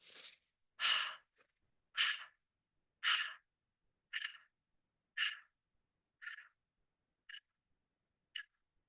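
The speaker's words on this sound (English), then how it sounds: "So you're gonna inhale through your nose, exhale through your mouth." Rhythmic breathing, in through the nose and out through the mouth, heard as about ten airy breaths in a steady cycle of roughly one per second. They are close, clear and alone, and they grow softer and shorter toward the end.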